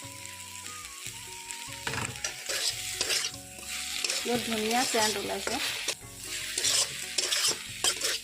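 Dried fish sizzles and is stirred in a pan with fried taro stolons, a steady crackle broken by scraping strokes, and a voice speaks briefly.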